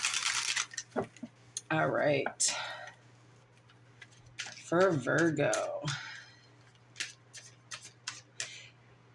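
Papery riffling of tarot cards being shuffled in short bursts, close by, with a soft voice speaking briefly between shuffles.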